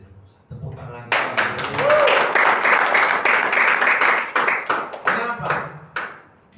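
Loud, dense applause from a church congregation during a sermon fills most of the clip, with scattered claps and some cheering after a brief quieter start.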